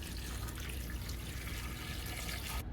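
Water pours from a nearly full gallon jug into a slow cooker pot holding chicken bouillon cubes, making a steady, continuous close-up splashing rush with no talking.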